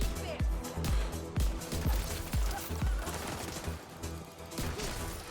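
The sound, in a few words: gunfire in video game The Division 2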